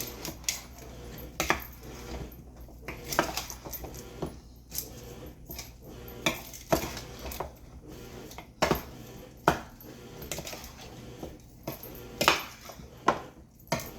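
Ingredients stirred together with curry powder in a bowl for freezer meal prep, giving a steady scraping and clinking of utensil against the bowl with sharper knocks every second or so, close and fairly quiet, with no talking.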